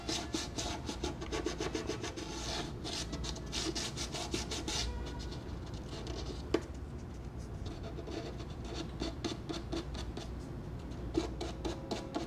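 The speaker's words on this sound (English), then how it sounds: "We need to sand this and make it really smooth." Sanding varnish smooth on a violin: continuous close rubbing and rasping strokes in a quick, steady back-and-forth rhythm, sustained throughout with no talking.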